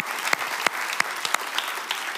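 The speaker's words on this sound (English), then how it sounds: "Can you all clap for Keanu?" A church congregation claps in celebration of Keanu's upcoming baptism, a steady patter of many hands over 2 seconds with several sharper claps standing out, close and moderately loud, no talking.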